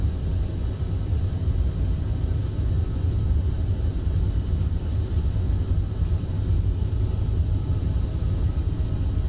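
Steady, loud low-frequency jet engine roar of a CRJ 1000 regional airliner accelerating down the runway on a simulated takeoff roll in a flight simulator, continuous and even throughout with no talk.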